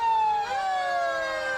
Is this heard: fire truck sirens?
yes